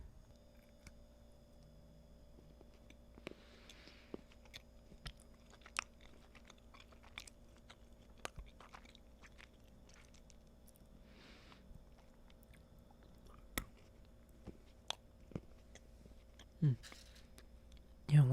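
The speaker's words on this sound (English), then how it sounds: "once you get in the first bite, it gets easier to chew once you get used to the harder consistency" Close-up chewing of hard Chanukkah chocolate, sharp crunchy bites and wet mastication clicks in a quiet room, sporadic and intimate, louder bites near the end.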